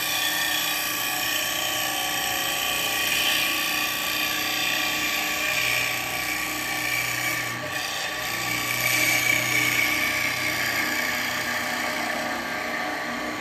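Wood lathe turning with a carbide tool riding its bevel, giving a steady loud broadband whirr and hiss that runs unbroken throughout, with a faint low hum underneath and no speech.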